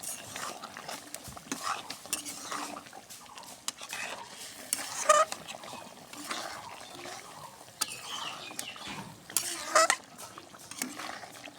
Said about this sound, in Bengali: যতটুকু পানি আছে এটা দিয়ে আমি কষে নিব পটল আলু।